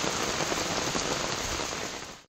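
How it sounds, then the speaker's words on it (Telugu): Heavy rain pours steadily onto roads in Malkajgiri-area Hyderabad neighbourhoods, a dense continuous hiss of drops hitting pavement, loud and close throughout before cutting off abruptly at the end. "మల్లాపూర్లో వర్షం దంచికొట్టింది"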